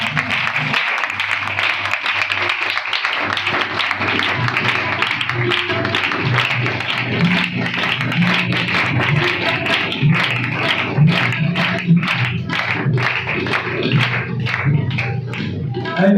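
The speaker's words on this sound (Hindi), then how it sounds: "तालियां" An audience at a gathering claps continuously for about sixteen seconds, dense applause with faint music and voices underneath.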